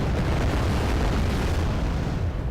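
Missile explosions in the Wargame strategy game rumble in a dense, continuous barrage of deep booms, loud and sustained throughout with no gaps.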